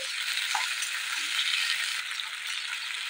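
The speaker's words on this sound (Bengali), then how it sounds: "মাংসগুলো একটু ভালো করে ভেজে নেবো" Bone-in chicken pieces fry in a pan with a steady, even sizzling hiss that stays constant throughout, close by and moderately loud, with no voices.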